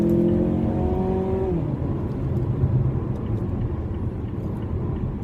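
Engine of a 2016 Mazda 6 GT pulling hard after a single downshift, a steady loud rising drone from start to finish with a tonal shift about a second and a half in, no voices.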